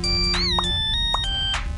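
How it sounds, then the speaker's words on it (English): A melodic phone ringtone from the Henry Stickmin game, a short sequence of bright electronic tones playing clearly on its own. "that ringtone is vibing."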